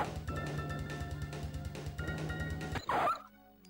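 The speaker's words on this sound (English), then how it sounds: "I can see where the dog is." Dog barks from the Sega Saturn version of Resident Evil, a rhythmic run of game-audio yips over a steady droning backdrop, ending in a loud crash-like hit before quiet.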